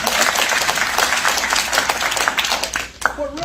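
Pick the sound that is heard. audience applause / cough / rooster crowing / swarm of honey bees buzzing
audience applause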